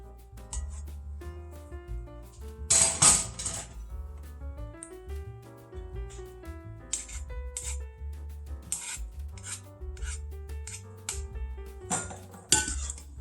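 Breakfast casserole ingredients with green onions and peppers being stirred in a bowl, a spoon rasping and clinking against the sides in repeated scraping strokes with sharper knocks now and then, close and moderately loud, no speech.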